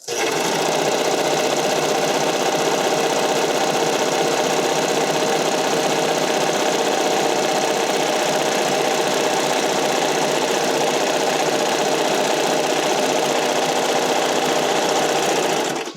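Sewing machine stitching a flat rolled hem on spandex for figure skating or dance costumes, running as a loud, steady, fast mechanical whir and rattle with no pauses, close by and without speech.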